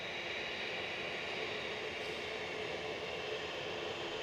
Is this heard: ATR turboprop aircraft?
yes